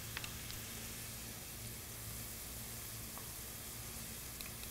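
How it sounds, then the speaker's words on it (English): Okra, one pound of it, frying in olive oil in a pan over medium-high heat: a steady, dense sizzle with faint crackles, continuous and close throughout, with no voices. "we're frying it in olive oil over medium-high heat"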